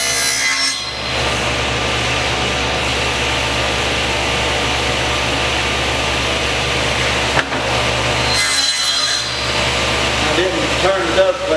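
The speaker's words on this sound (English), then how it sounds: "Turn the dust collector on" A workshop dust collector roars continuously at a loud, even level, with a short dip partway through and a voice faintly audible near the end.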